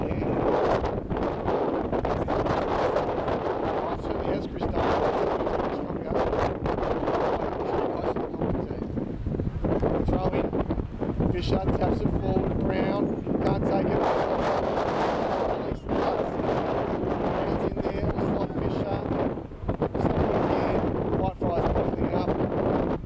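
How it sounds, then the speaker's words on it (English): Gusty wind buffets the microphone throughout at an outdoor Australian rules football reserves grand final ground, a loud rumbling roar with sharp bumps, while a commentator speaks over it. "Wind's picking up."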